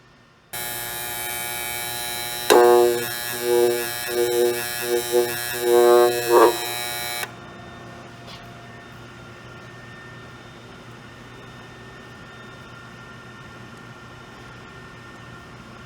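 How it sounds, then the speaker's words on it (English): An electric demagnetizer hums steadily and loudly for several seconds while an edge finder is passed through it, the tone wavering and buzzing as the metal tool moves, then cuts off abruptly leaving quiet room noise. "By demagnetizing this, it'll stop small particles from sticking to it."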